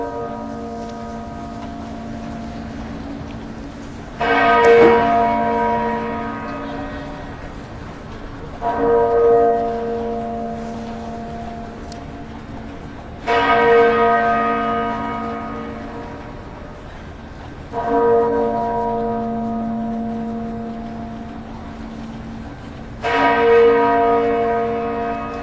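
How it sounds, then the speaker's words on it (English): Half-muffled church bell tolling at Margaret Thatcher's funeral, five slow strikes alternating loud and softer, each ringing out in a long resonant decay with clear overtones, alone without talk. "The half-muffled bell rings one loud chime and one softer chime."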